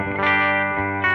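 A clean-toned electric guitar sounds through a Fender Princeton reissue amp, one sustained chord ringing for about a second, then a fresh strum at the end, with no voices.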